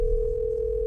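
A telephone ringback tone sounds while a call waits to be answered, a single steady electronic tone held clearly and alone for under a second.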